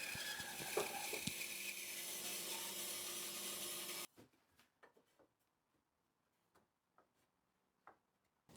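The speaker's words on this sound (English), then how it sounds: "I've got the bandsaw set to give me pretty much half the material, and I'm just literally taking a notch out of each side" A bandsaw cuts notches into wood for the long rails of a kart, making a loud, close, rasping buzz for about four seconds. It stops abruptly, followed by scattered faint taps and clicks in near silence.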